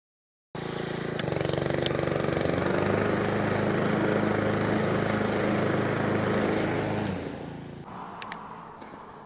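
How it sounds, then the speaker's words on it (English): A big lawn mower cuts grass with a loud, steady engine drone that starts abruptly, runs for about seven seconds, then winds down and stops. "So there, we've cut it with a big mower."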